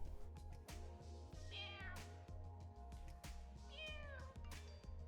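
Cat meows played back for a phone's sound recognition feature, two drawn-out meows over a steady low hum and intermittent clicks, fairly near, no talking.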